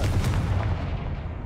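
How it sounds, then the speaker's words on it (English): Confringo fire spell blast in Hogwarts Legacy, a loud, heavy booming burst at the start that rumbles and fades away over a second. "If I have to hit it with magic to activate it. Confringo."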